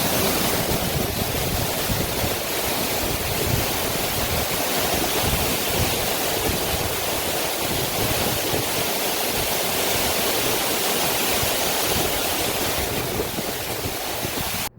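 Chinna Suruli waterfall roaring steadily with rushing, crashing water, a loud, dense, unbroken wash of noise close by, with no voices.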